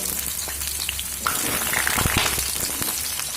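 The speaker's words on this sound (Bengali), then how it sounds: "এবার আমি কুমড়োগুলো ভেজে নেবো" Pumpkin pieces fry in hot refined oil, giving a dense, continuous sizzle and crackle close to the microphone with scattered sharper pops, and no talking.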